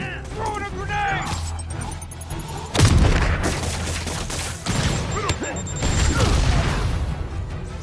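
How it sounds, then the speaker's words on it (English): A grenade goes off in the Spider-Man PS4 video game, loud booming blasts landing amid dense combat noise and gunfire-like crackle, with game sounds continuing throughout. "Throwing a grenade!"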